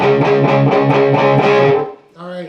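Distorted electric guitar playing a chugging riff, palm-muted strikes on D in a steady rhythm, loud and close, ending with a short ringing chord.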